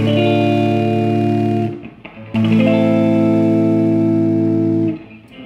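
A 1959 Gibson GA88-Stereo guitar amp played very loud, its speaker blown and breaking up into a harsh, buzzing sustained tone that cuts out briefly, returns, then fades near the end; no talk.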